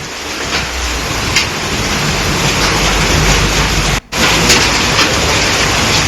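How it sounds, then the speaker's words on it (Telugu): Heavy rain and strong wind lash down during a storm in Uttar Pradesh: a loud, dense, unbroken roar of downpour and gusts, with a brief sudden dropout partway through. "సో గాలివాన బీభత్సం చూస్తున్నాం."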